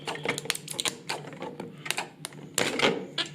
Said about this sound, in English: cut it with some scissors